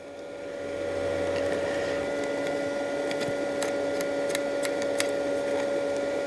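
A SIP Tigren 120 amp MIG welder feeds wire through its gun with a steady motor whine and a few faint ticks, close by and alone without talk.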